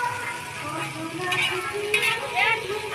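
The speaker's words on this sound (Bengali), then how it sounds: "এই চাউমিনের সব স্যালাড ভাজা হচ্ছে বাঁধাকপি বরবটি গাজর পেঁয়াজ" Chowmein vegetables (cabbage, beans, carrot and onion) frying and being stirred at a street food stall, with a steady sizzle and scraping of a spatula in the pan, mixed with a busy background.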